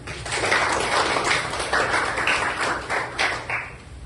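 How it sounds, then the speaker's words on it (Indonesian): A group of participants at a teaching practice session in a classroom claps together, a dense, moderately quiet patter of hands lasting several seconds without speech. "tepuk tangan semuanya"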